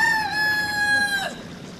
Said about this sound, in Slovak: Prečo kikiríka?